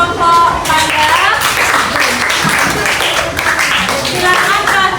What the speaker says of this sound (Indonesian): tepuk tangan untuk kelompok panda